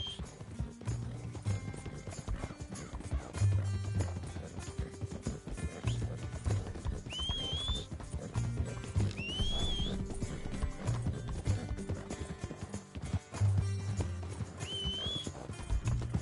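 A horse in the video game Red Dead Redemption 2 gallops with rhythmic clip-clopping hooves throughout, while several rising whinnies cut through, fairly close and without talk.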